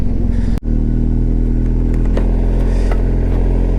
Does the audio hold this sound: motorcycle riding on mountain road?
yes